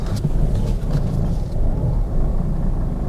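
An old Citroen Berlingo Multispace rumbles along a road, its engine and tyre noise a heavy continuous low drone heard from inside the cabin, with slight swells as it accelerates and no speech.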